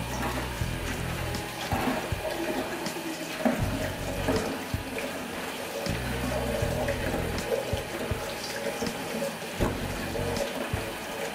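Tap water runs steadily into a sink while salad leaves are washed, a continuous close splashing flow with some faint handling noises.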